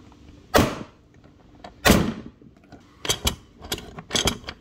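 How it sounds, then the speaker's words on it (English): Rivets are set through a hinge on a Polaris Sportsman 450-570 front storage lid, producing two sharp, loud mechanical snaps followed by a quicker run of smaller clicks and clunks. "Now I'm just going to rivet from the outside just because the outside of a rivet always looks a little cleaner."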